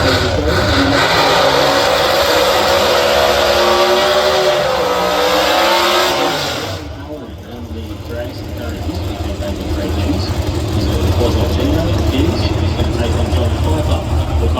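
Loud drag racing car engines powered by small block Chevys roar and rev, then fade and give way to steadier engine noise at a dragway, with a voice talking over them.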